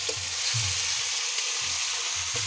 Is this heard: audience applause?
no